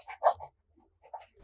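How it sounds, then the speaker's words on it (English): A fountain pen with a fine nib and Organic Studios Potassium Lavender ink writes in a National Steno notebook, giving a few short, close scratchy strokes separated by a pause. "The next writing sample is done in a National Steno notebook."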